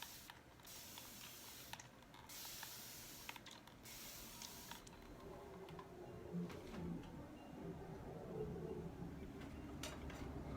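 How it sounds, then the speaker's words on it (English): Three quick hissing bursts from a spray bottle misting a canvas, faint and close, followed by soft handling and mechanical clicks. "Watch what happens when I spray my canvas."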